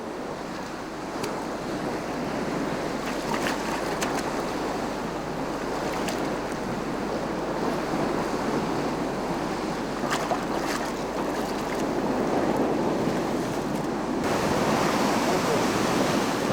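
Ocean surf breaks steadily on a shore at night during hand gathering of crabs by firelight, a continuous loud wash of waves with some wind rumble throughout.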